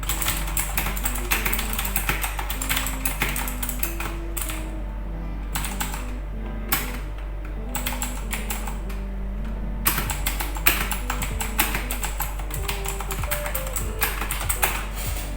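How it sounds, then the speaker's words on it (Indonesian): Rapid, crunchy clicking of a noisy computer keyboard being typed on continuously and up close, with a steady low hum and faint melodic background music underneath. "Suaranya untuk kalau dibuat ngetik tuh agak rada berisik, itu yang buat keren."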